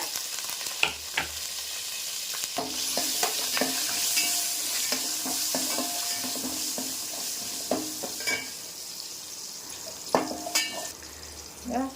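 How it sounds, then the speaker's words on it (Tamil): Small shallots fry in a pan for a mixed-vegetable sambar, with a steady soft sizzle under repeated scraping stirs and occasional sharp clicks of a spoon against the pan, close by. "நல்லா வெங்காயம் போட்டுக்கலாம் சின்ன வெங்காயங்க"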